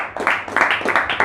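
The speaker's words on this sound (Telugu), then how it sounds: "గట్టిగా చప్పట్లు కొట్టాలా." A prayer service congregation claps loudly in quick, steady rhythmic bursts, close and energetic, with a voice faintly beneath.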